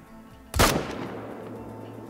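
A single loud rifle shot rings out at a whitetail deer in the hunting game Hunter: Call of the Wild, a sharp crack with a decaying echo tail into quiet ambience.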